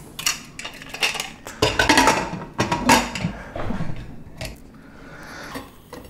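A metal lid is set and adjusted on a cooking pot of mutton curry, giving several close clanks, scrapes and rattles of metal on metal that fade into quieter handling.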